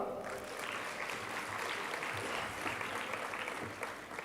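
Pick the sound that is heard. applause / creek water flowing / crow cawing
applause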